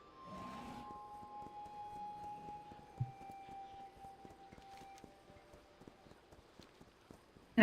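Steady clip-clop of a ram mount's hooves while riding in World of Warcraft, a fast regular trot running throughout at moderate level, with a faint sustained tone beneath.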